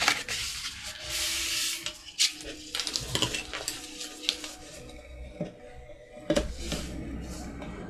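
An eraser rubs back and forth over marks on paper in scratchy bursts of strokes, close up, with brief pauses between passes and faint handling noises.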